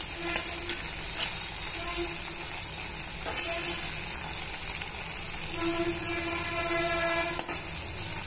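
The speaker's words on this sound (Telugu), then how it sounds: "సన్నగా తరిగిన టొమాటో ముక్కల్ని యాడ్ చేసుకొని ఇవన్నీ బాగా మిక్స్ చేసుకొని మూత పెట్టుకొని మగ్గించుకోవాలి." Finely chopped tomatoes fry for a chicken liver gravy, giving a constant close sizzle with occasional scraping stirs and faint metallic clinks of a spoon against the pan.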